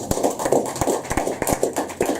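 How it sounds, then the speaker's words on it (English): Audience clapping for poet Greg at an open-mic poetry reading in a pub, a modest burst of close, uneven hand claps with sharp individual smacks repeating throughout. "give Greg some more applause"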